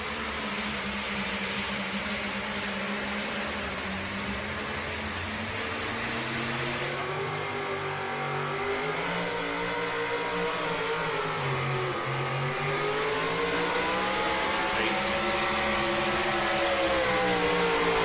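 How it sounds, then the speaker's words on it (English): A four-wheel drive pulling truck at a tractor pull, its engine roaring loud and continuous with rising and falling revs and a harsh rasp throughout, heard from a moderate distance with no talk. "Chatter on the Peyton Davis four-wheel drive there."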